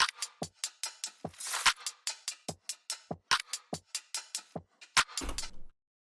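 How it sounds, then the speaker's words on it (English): A wide, heavily reverbed drum loop of sharp, evenly spaced hits in a quick steady rhythm, each strike trailing into a roomy tail, ending with a denser burst before cutting off, no voices present. "I had this drum loop that sounds like this."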